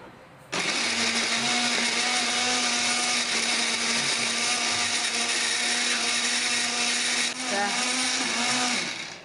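A kitchen blender grinds a spice paste of shallot, garlic and chili with a little water or oil, starting abruptly and running as a loud, steady whirring roar for about nine seconds, with a brief dip in pitch near the end.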